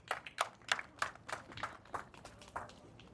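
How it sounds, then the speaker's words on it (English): A small group claps in sparse, evenly spaced bursts, faint and somewhat distant, with no talking over it. "can we give them a round of applause as they make their way up here?"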